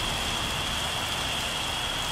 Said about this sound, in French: pluie.